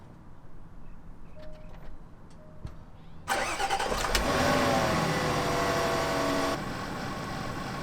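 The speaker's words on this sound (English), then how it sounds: "now I'm ready to start the car and see what happens" A Range Rover L405 engine cranks and catches at about three seconds, then runs loudly and steadily before settling to a lower idle.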